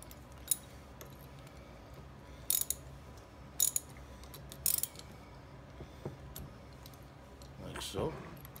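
A gator wrench ratchets while tightening, giving a few short, sharp metallic clicks spaced about a second apart, fairly close, over quiet background noise, with a brief rougher rasp near the end.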